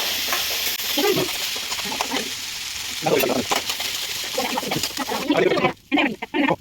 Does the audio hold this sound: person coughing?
no